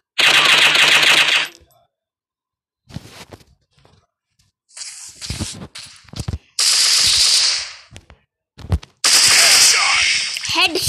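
Gunfire in a shooting video game, loud bursts of rapid automatic fire broken by gaps, with a few separate shots in between, under occasional talk.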